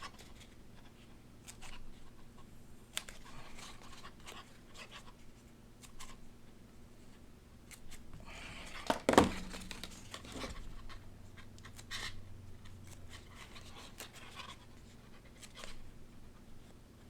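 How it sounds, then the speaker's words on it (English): Craft foam being cut with incisions to shape foam flowers. Quiet, scratchy cutting sounds run throughout, with one sharper, louder cut near the middle. "we're going to cut the incisions"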